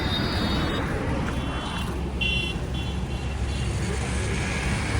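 A road vehicle pulls up outdoors during a walking pilgrimage, a steady broad engine rumble and traffic noise close by, with brief higher tones above it.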